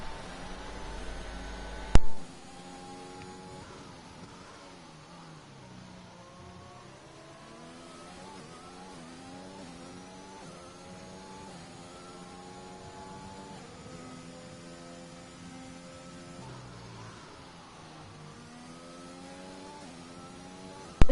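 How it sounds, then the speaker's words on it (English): Race car engines in a racing video game on the Bahrain circuit, a continuous whine that repeatedly climbs and drops in pitch through gear changes, with a sharp bump at the start and no commentary over it. "just so you can hear engine sounds."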